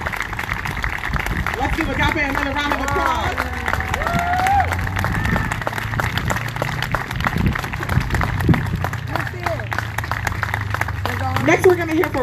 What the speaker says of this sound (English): Let's give Agape another round of applause.